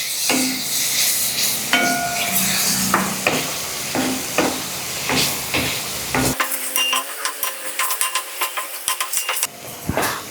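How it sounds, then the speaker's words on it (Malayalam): Paneer cubes fry in an oily pan with a steady sizzle while a spatula stirs and turns them, giving repeated close scraping taps that grow quicker toward the end. "തിരിച്ചു മറിച്ചിട്ട് നന്നായിട്ടൊന്ന് ഫ്രൈ ചെയ്തെടുക്കാം."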